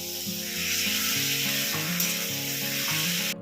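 Turmeric and chili powder sizzle with fish in a hot pan for a Bengali fish curry, a loud, close, steady frying hiss under a repeating low tonal melody, with no talk.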